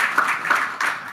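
Brief burst of audience clapping at a Kyiv policy panel, several claps standing out in an uneven rhythm, moderately loud with no voices on top.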